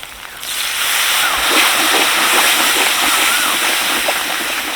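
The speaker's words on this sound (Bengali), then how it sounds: "এবার আমি এর মধ্যে সামান্য একটু জল দিয়ে ভালো করে মশলাটা কষে নেব" Spice paste of cumin paste and garam masala frying in a pan with a little water added, for a bottle gourd vegetarian dish; a loud, close, steady hissing sizzle that runs without a break and with no talk.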